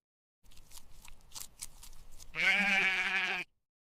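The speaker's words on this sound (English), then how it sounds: "The sheep continue to graze peacefully." A sheep bleats once, loud and close, in a long wavering call, after a few soft shuffling and rustling sounds on a quiet meadow where the flock grazes.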